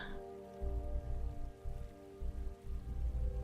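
Water in the puzzle video game Outpour patters and splashes like rain, a soft continuous wash with low rumbling swells under faint steady musical tones.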